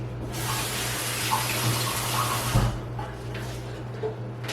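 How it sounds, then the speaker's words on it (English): Tap water runs steadily into a kitchen sink as hands are rinsed while making meatballs, a close, even rush with a few small splashes and knocks, no talking. "let me just wash my hands again"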